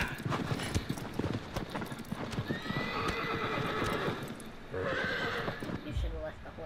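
Horse galloping in the video game Shadow of the Colossus, rapid rhythmic hoofbeats with a couple of whinnies, heard close alongside a person talking.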